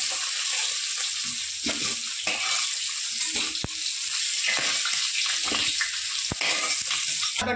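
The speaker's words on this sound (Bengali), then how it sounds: "গরম কড়াইতে মাছগুলো ভেজে নেব" Rohu fish frying in hot oil in a wok, a continuous close sizzle broken by sharp spattering pops and the scrape of stirring, with no one talking.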